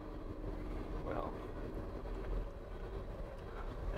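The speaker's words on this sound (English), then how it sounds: "Coal train." Long coal train rolls past at a distance, a steady low rumble and rattle of wagons that holds constant throughout, faint and muffled under light background noise.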